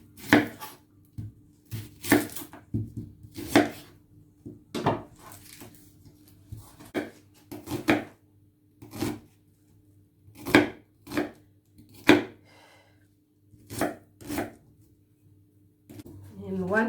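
Sharp knife strikes chop red onion on a cutting board, a steady series of crisp, close knocks spaced about a second apart, with faint background hum.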